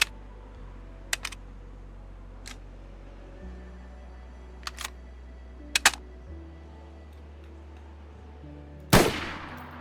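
A single round being chambered into a belt-fed machine gun in the DayZ video game: sparse, sharp metallic clicks spread out over several seconds, then one louder clack near the end, with no talk.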